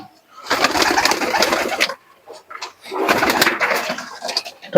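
Two young Pakistani pigeons let loose, giving two loud, close bursts of fluttering wings and cooing, with a short quiet gap between them and no talking.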